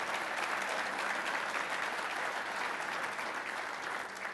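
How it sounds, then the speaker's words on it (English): A full room gives a community event honoree a steady, dense round of applause, many hands blending into an even wash that holds at the same level throughout before easing slightly at the end. "Please join me in a round of applause for Derek Leathers and Werner Enterprises"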